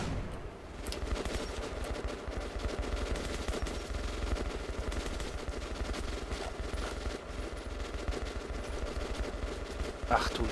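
Sustained gunfire from the video game Metro: Last Light Redux, dense bursts running continuously at steady loudness, with someone talking now and then over it.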